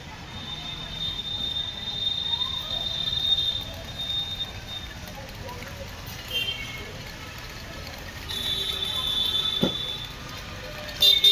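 A train moves through Amritsar railway station, with high wheel squeals and rolling rail noise in a busy, echoing platform setting, with people talking faintly in the background.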